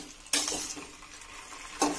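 Chicken with soy sauce is stirred in a hot pan for a Chinese chicken dish: two sharp scraping bursts of spatula against pan over a steady, close sizzle, with no talking.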